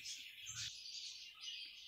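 Rosella parrots in a new backyard aviary give bright, close, repeated chirps and whistling calls in quick bursts.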